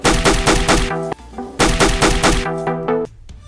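Edited gunfire effects synced over music, with bursts of loud, rapid shots in two clusters, a short gap between them and a trailing pair of sharper single shots at the end.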